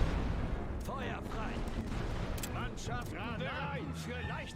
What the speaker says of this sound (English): Heavy bombardment on the trench lines back here. Just all the artillery.